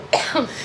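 A single short cough, close and moderately loud, with a brief rough second burst trailing after it, heard alone without talk.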